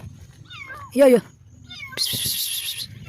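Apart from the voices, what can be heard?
kitten meowing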